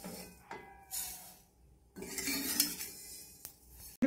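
Roasted sesame seeds being tipped and scraped from a pan into another vessel, producing faint metallic clinks and gritty pouring rustles in separate bursts, with no talking.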